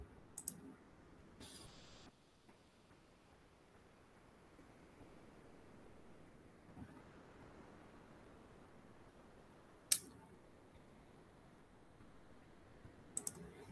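Scattered computer mouse clicks during database work, a few sharp, isolated clicks separated by long quiet gaps, close and faint against a low background hiss.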